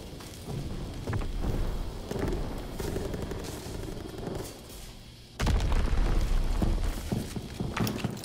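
Diesel bomb explosions in Call of Duty: WWII, heavy booms mixed with gunfire clatter in a chaotic battle, one especially loud blast landing partway through and keeping the din raised afterward.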